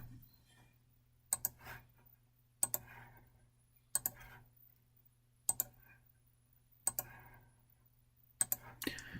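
Mouse clicks and keyboard keys tapped while drafting in CAD software, arriving as sharp double clicks in spaced bursts about every 1.5 seconds, close and clear over a low steady hum, with soft talk between them.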